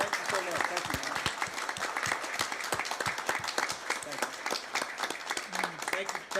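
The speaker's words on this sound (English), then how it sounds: "We want to applaud you. Just give them a hand." An audience applauds veterans at a council meeting with sustained, fairly close clapping throughout, and brief voices come through over the clapping.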